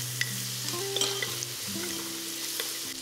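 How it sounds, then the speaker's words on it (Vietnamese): Steady, loud sizzling of shallots and garlic frying in hot oil, with occasional stirring scrapes and no voices. "Đợi cho dầu nóng, mình cho hành tỏi vào phi thơm."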